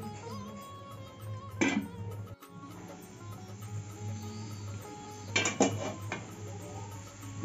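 Pots and pans knock in a kitchen while matar paneer masala cooks, two sharp metallic clatters of a lid going onto the pan, close, over a low steady hum.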